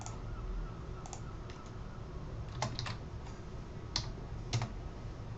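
SPSS syntax being typed on a computer keyboard: scattered, close keystrokes and small clusters of taps, irregular and fairly quiet, over a faint background hum with no voice.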